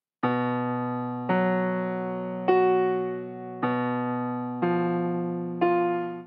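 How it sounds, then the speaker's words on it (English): Left-hand part of the first measure of a piece in 6/8 time: six evenly spaced, sustained keyboard-like notes, each struck cleanly and decaying before the next, heard alone and close. "And the first measure of the left hand sounds like this."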